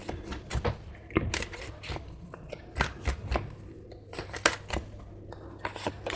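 Tarot cards shuffled by hand during a love reading, a close run of crisp riffling bursts and flicks in an uneven rhythm, with faint low room hum underneath and no talking.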